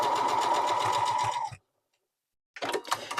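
Quilt fabric stitched on a sewing machine, a fast steady mechanical whir with rapid needle ticks, running loud and close for about a second and a half, stopping dead in silence, then a brief burst of stitching resuming.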